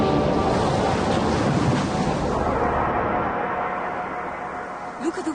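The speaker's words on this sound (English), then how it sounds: "Look at the waves, Mina." Ocean waves wash and roar with spray in a broad rushing wash that swells early and slowly fades, ending with a faint voice-like sound at the close.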